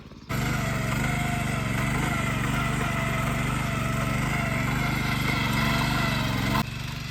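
A tiller machine ploughing a hillside field in the Himachal hills, its small engine running in a steady close drone that starts abruptly and holds evenly before cutting away.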